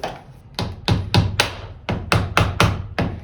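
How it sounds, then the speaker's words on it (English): A hammer taps vinyl window trim in a steady series of about ten light, sharp knocks, close by, with no talking. "I like to take a hammer and gently tap it on."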